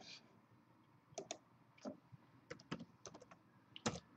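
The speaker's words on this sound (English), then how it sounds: "Let's go ahead and type in live" Typing on a computer keyboard, sparse separate key clicks in short bursts, close and quiet against a soft background hiss.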